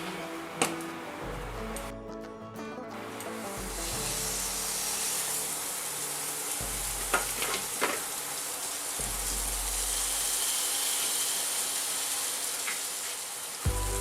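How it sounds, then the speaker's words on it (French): A soft, steady sizzle and hiss of lamb meat browning in a pan continues throughout, with a few faint clicks and clatters of utensils. "je vais déjà faire rissoler la viande tranquillement."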